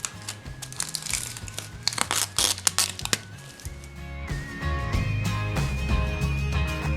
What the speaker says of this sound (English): remove all the packaging